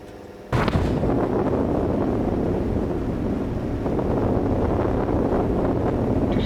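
A liquid fuel rocket engine fires in the Stationeers video game, a sudden loud roar that starts after a brief hum and then holds as a steady, dense rumble with no talk.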